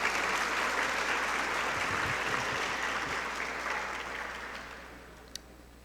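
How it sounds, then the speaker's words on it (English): An audience at a high school athletic banquet applauds in a dense, sustained round of clapping that slowly fades toward the end. "please give those people a round of applause before I move on and talk about my team"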